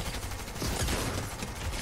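Rapid gunfire in the video game Fortnite Chapter 3, a dense burst of shots packed close together, loud and continuous throughout.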